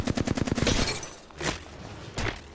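Rapid automatic gunfire bursts in the Apex Legends battle royale game, a fast volley up close followed by two separate louder shots or impacts after short pauses, with no talking.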